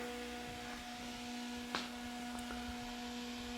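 A small DeWalt battery-powered utility fan runs steadily, giving a constant electric hum with a tonal whine and faint airy rush, close by and fairly quiet, with a brief soft click partway through.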